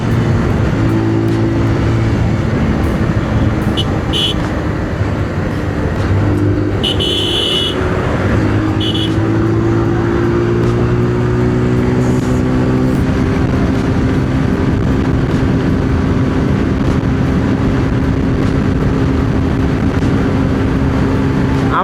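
Steady road and engine rumble of a car on the highway from Dhaka to Jamalpur, heard from inside the cabin, continuous and fairly loud, with brief higher squeaks or passing honks early on.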